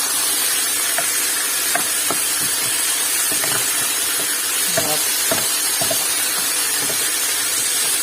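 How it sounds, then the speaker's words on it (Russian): Chicken pieces frying in a pan on a home stove, a steady loud sizzle and hiss throughout with occasional soft clicks and pops, no talking. "А у меня курочка жарится."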